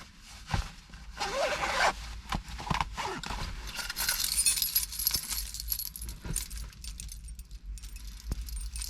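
Unzipping and pulling off a big hoodie, with a zipper rasping and fabric rustling close by, mixed with jangling keys and clinking in a car.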